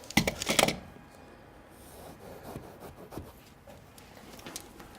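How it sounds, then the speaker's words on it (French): A serrated bread knife saws through Comfort Batt rock wool insulation, a close, dry rasping with a burst of quick strokes at first, then softer, scattered scraping strokes. "on le coupe avec un couteau à pain, à dentelé"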